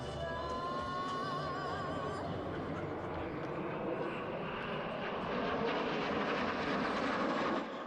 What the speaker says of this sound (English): The Flying Bulls have 4 of these magnificent jets in their fleet